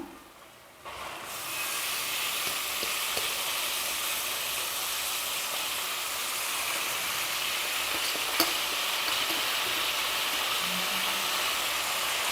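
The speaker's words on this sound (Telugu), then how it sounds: "మనం ఈ ఉల్లిపాయల్లోకి నీట్గా వాష్ చేసుకొని పెట్టుకున్న ఈ మటన్ కీమా అనేది వేసుకుందాం." Minced mutton kheema drops into a pan of hot onions and bursts into a loud, steady sizzle that hisses on evenly with a faint stir or clink now and then.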